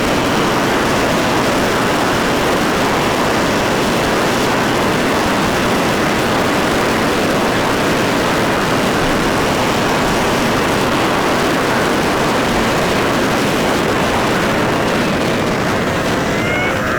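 A Yamaha XT250 motorcycle rides toward a trail, its engine a dense, constant drone blended with heavy wind rush, loud and continuous throughout with no voices.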